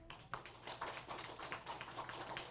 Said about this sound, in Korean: 감사의 박수를 한번 합시다